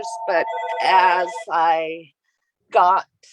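A telephone rings in short electronic trills that break in between bursts of a man's speech, then sound once more alone after a pause.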